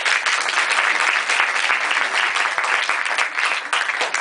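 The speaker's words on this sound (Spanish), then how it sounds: "por favor un fuerte aplauso para ellos" Audience applause at a short film premiere as crew members are called up on stage, steady dense clapping from a sizeable crowd, loud and continuous throughout.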